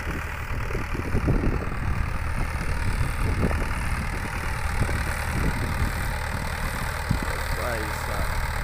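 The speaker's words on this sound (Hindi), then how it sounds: "महिंद्रा 585 DI पावरफुल ट्रैक्टर, बिना ड्राइवर के चल रहा है, देखिए।" Engine of a Mahindra 585 DI 50 HP tractor hitched to an 11-tine cultivator runs steadily at a field, a continuous mid-low rumble with knocking pulses, while people talk over it nearby.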